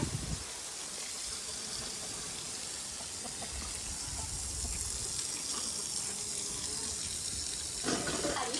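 Water runs steadily from a tap into a container, a continuous gushing splash that carries on throughout and grows slightly fuller toward the end.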